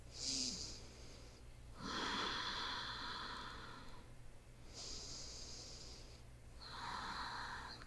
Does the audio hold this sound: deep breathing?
yes